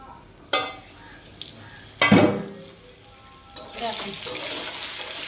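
Pointed gourd frying in a small amount of oil in a pan, giving a steady sizzle broken by sharp clattering stirs, with a loud burst near the middle and a brighter, continuous hiss toward the end.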